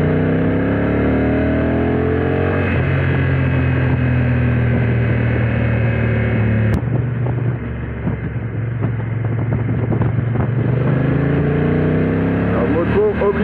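A Honda NT 1100 DCT motorcycle from 2022, ridden in sport mode, accelerates with a steady rising engine drone, a brief dip as the automatic gearbox shifts, then pulls again; a rider's voice is heard over it.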